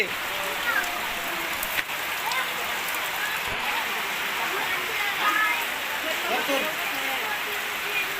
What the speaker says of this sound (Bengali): কিন্তু এখন বৃষ্টি যে নামছে